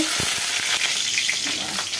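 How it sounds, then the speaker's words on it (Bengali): Onions sizzle steadily in a hot pan while a utensil scrapes and stirs them in a few soft strokes, close by, without speech. "তো পেঁয়াজটা একটু নাড়াচাড়া করে নিলাম।"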